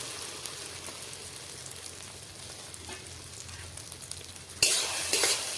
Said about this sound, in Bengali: এরপর সোয়াবিনটাকে ভালো মতো ভেজে নিচ্ছি।